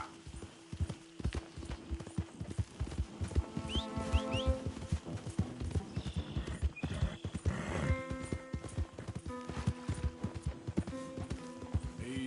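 Hooves clip-clop in a quick galloping rhythm as a horse runs in the Red Dead Redemption 2 video game, with occasional whinnies and snorts over faint ambient background.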